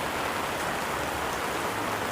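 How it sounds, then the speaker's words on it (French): Rain patters steadily on an umbrella overhead, a dense, even hiss of close drops with no voices. "On est bien protégé là sous la pluie. Sous le parapluie, ça c'est très très bien."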